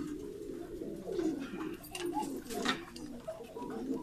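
Pigeons cooing on a pigeon farm in Bangladesh, soft low throaty coos repeating steadily throughout with faint rustling and background activity, fairly close and continuous.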